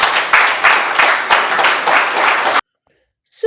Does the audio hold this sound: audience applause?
yes